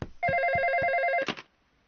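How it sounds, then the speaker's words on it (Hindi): A cartoon telephone bell rings in one loud, continuous trilling burst of about a second, close and clear, followed by a short clatter and then near silence. "फोन बज रहा है।"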